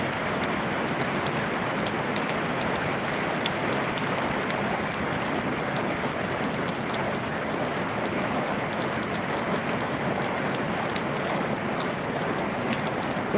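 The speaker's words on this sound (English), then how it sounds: "at least I'll get to see what rain sounds like with this new microphone over there" Steady rain falling during a summer thunderstorm, a dense, even hiss of drops spread across the whole span, constant and fairly loud with no voices.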